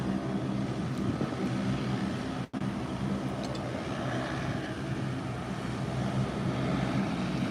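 An airliner departing from Howard Hamilton International Airport, a steady distant engine roar heard outdoors with a broad rumbling wash that holds level throughout.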